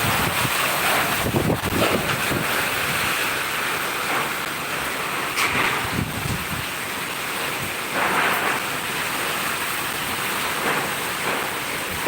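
Heavy monsoon rain pours down in Ratnagiri in the Konkan region, a steady, loud, dense wash with gusty wind buffeting the microphone and occasional heavier bursts, no voices.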